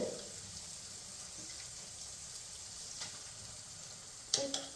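A ladle stirs duck curry in a pan. A soft, steady sizzle underlies faint stirring, and a couple of brief clinks and scrapes come near the end. No one speaks.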